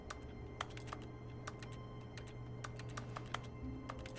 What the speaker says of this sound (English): Can I type?